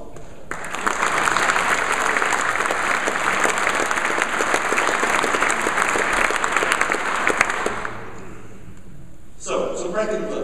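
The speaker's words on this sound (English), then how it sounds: "Give them a round of applause, please." Applause from the audience at a keynote conference in Ghent, Belgium: loud, sustained clapping from a large crowd for about seven seconds, then fading quickly, with a faint voice and rustle at the end.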